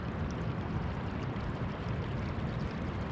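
A creek flowing down to a river near Boucher Rapids gives a steady, broad rushing of water, close and even throughout, with no voices.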